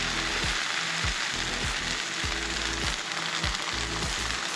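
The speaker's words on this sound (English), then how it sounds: "Now you're going to add a couple of fresh squeezers of olive oil. Saute the onions. Here they go." Onions sautéing in olive oil hiss in a dense, constant sizzle, with regular low thumps of a spatula tossing them roughly every half second, close up and without talk.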